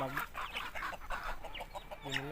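Breeder chickens on a farm fed organic fermented feed cluck in short, close bursts, several quick calls in a row with brief gaps between them.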